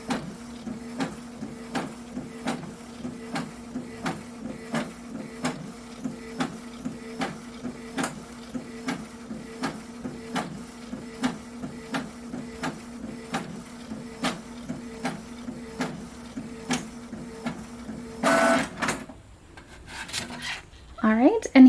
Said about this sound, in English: And it's loading it down into the printer.